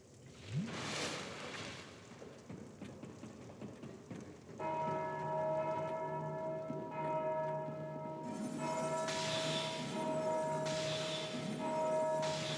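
Church-style bell ringing in the Dark Souls II video game, a struck tone first, then a sustained, resonant chime with layered overtones that rings on steadily and loudly, repeating its strikes without any voices.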